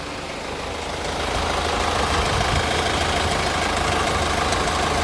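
A car engine idles at 776 rpm with the air conditioning switched on and the AC compressor not turning. It makes a steady, close mechanical rumble that grows slightly louder after the first second, with no talking.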